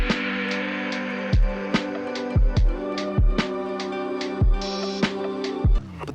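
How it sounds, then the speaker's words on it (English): Rough demo recording of a new song, with steady sustained tones over punchy low kick hits and sharp percussive accents, full and close. "The original demo for my new song sounds like this."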